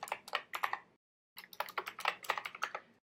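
Quiet, close keystrokes on a computer keyboard come in two short bursts separated by a brief pause, each tap crisp and distinct.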